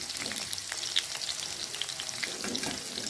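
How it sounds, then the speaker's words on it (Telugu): Vegetables fry in hot oil with a dense, crackling sizzle, quiet and continuous throughout with small pops, no voices. "పెట్టుకొని ఇలా నూనెలో ఫ్రై చేసుకోవాలి"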